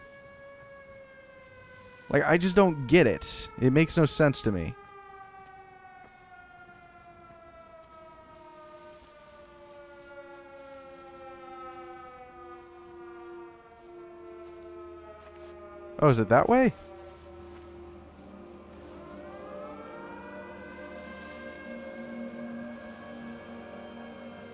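A long, slowly falling air-raid siren wails through the game Everybody's Gone to the Rapture during an air strike, its layered tones sliding down and swelling again, while someone talks over it in short bursts.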